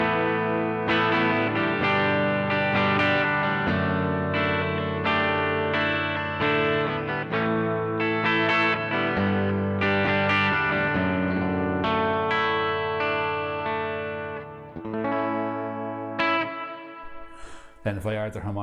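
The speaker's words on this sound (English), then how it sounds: "you can hear it's just a gorgeous, big, luscious reverb" A Keeley Supermod Workstation pedal adds a big, lush reverb to electric guitar chords and single notes, the tail blooming and lingering after each phrase, playing alone before fading near the end.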